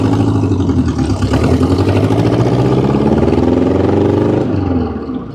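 The engine of a 1976 VW-framed Berry T dune buggy idles loud and close with a misfire and low power, a rough, uneven chugging that keeps going before easing off at the very end.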